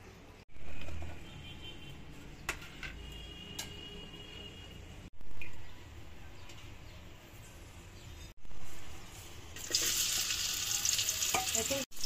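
Hilsa fish heads fry in a pan with a steady sizzle. The crackle swells a few times in brief bursts and grows louder and brighter near the end. No voices.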